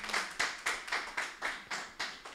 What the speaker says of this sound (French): Applaudissons pour Jésus.